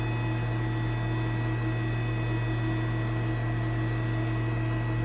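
A 2020 Haas VF2SS CNC mill spindle spinning at 8,000 RPM, a loud, steady tonal whine and hum layered over constant machine noise, unbroken throughout.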